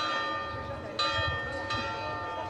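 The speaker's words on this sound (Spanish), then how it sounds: "El sonido de las campanas de la Catedral de Ciudad Rodrigo anuncia una nueva exposición de las Edades del Hombre." Bells of Ciudad Rodrigo Cathedral ring out in a resonant, sustained peal, with fresh strikes landing about a second and again just under two seconds in.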